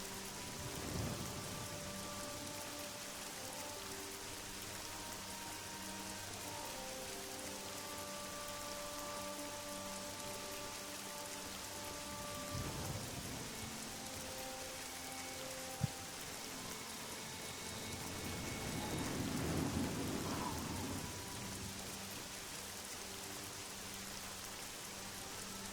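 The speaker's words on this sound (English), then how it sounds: "Could rent a room there and wait for all this rain to go away" Steady rain hisses through the whole stretch in The Elder Scrolls IV: Oblivion, with low thunder rumbles rolling in near the start, around the middle and more loudly toward the end, over a faint sustained musical drone.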